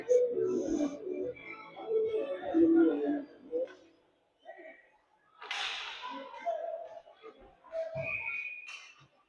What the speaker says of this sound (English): Got a whistle down low here.